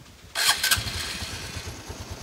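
A cold motorcycle engine catches after a brief crank and settles into a steady, close idle with a regular low putter.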